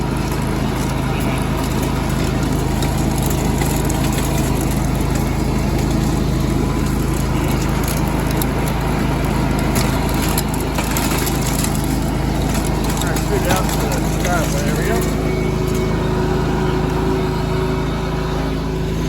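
A John Deere 285 lawn tractor clearing snow with a blower attachment keeps up a steady, loud engine drone throughout, with a rough mechanical churn and a brief whine near the end.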